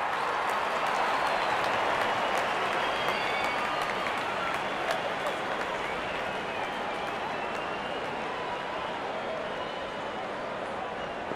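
Crowd at a cricket World Cup match between Australia and South Africa, a steady dense wash of applause and cheering that holds at an even level throughout, with commentary voices talking over it.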